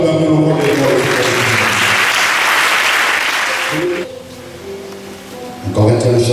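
A church congregation applauds loudly during a Sunday service, a dense wash of clapping that fades after about four seconds into quieter talk before a brief swell of noise returns at the end.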